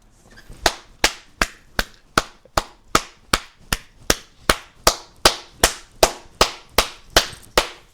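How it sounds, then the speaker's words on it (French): Hand clapping, around eighteen sharp, loud claps in a steady even rhythm, close to the listener with no voices between them. "je sais que t'entendais le bruit de mes applaudissements"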